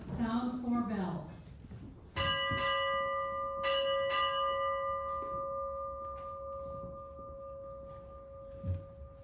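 A ship's bell rings at a Navy retirement ceremony, sounding in two quick pairs of clear metallic strikes that ring out and fade, after a spoken voice.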